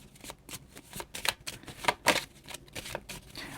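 Tarot cards being shuffled and drawn, a run of quick papery riffles and snaps with a few sharper card flicks near the middle, close and fairly quiet with no talking.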